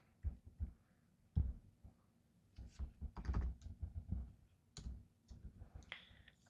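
Keys clack on a Windows computer keyboard in short bursts of typing, quiet, close taps with irregular pauses between clusters.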